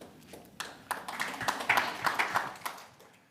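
An audience at a food security networking event applauds, a modest patter of hand claps that swells through the middle and then tapers off, fairly quiet and not very full.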